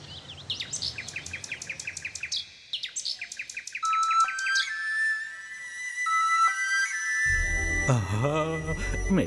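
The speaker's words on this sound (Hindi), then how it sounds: "इन्हें जिस बुलबुल से लगाव था, सिर्फ उसी की आवाज इन्हें बचा सकती है" A bulbul sings a bright, varied sequence of rapid chirps and clear whistled notes, repeated in quick trills and then longer held tones, while a faint low rumble enters toward the end.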